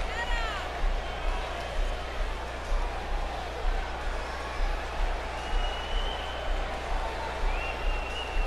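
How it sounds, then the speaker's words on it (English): Arena crowd noise from a wrestling video game featuring Nia Jax with Tamina Snuka against Vitani with The Nation of Domination: a steady, continuous roar of cheering with scattered whistles and shouts, filling the whole stretch without letup. "And Michael, it sounds to me like this crowd already picked the one who they want to win this match."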